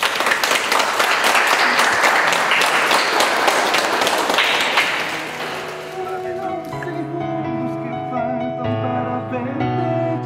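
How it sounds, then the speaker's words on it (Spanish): Applause from a congregation at a child's third birthday church service, loud dense clapping for about five seconds that fades as a tonal music passage takes over. "Vamos a dar un aplauso ahí."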